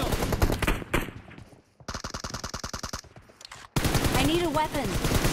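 Automatic fire from an M416 rifle in a team deathmatch shooter game, with rapid evenly spaced bursts of loud close gunshots between other game sounds and chatter.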